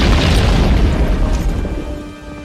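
A Portuguese cannonball slams into Hang Tuah's boat in a loud, close explosion, a deep booming burst that rumbles and slowly fades over a couple of seconds.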